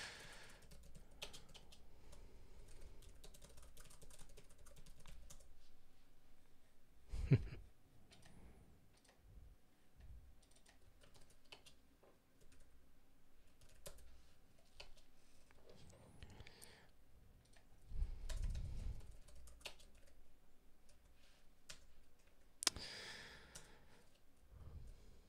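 Soft, irregular keystrokes clatter on a computer keyboard in quiet bursts, with a few louder thumps and long near-silent gaps, faint and close.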